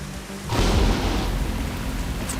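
Heavy rain pours down on a wilderness shelter, a dense steady roar that swells in after a quieter half-second and holds loud and unbroken to the end, with low rumbling underneath.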